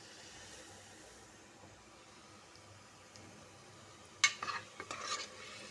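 Onions fry quietly in a pan with chicken masala, a soft, faint sizzle that runs steadily, then a few sharper scraping stirs near the end.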